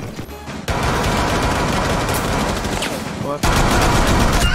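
Gunfire in Rainbow Six Siege comes as loud, sustained rapid bursts that cut off abruptly and then resume, while a voice is briefly heard.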